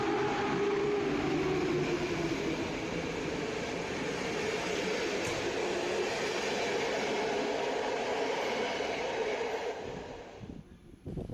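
A PKP low-cost TLK passenger train rolls past a Polish station platform with a steady, loud rumble and hiss of wheels on rail that holds for several seconds and then drops away at the end.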